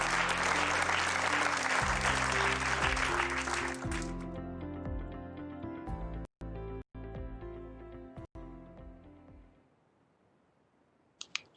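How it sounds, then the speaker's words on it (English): Audience applause at a talk on creative industries and bureaucracy, a loud dense burst of clapping over a rhythmic music bed, fading out partway as the music carries on alone with some scattered clicks. "A great applause to this project, producing innovations in an innovative way"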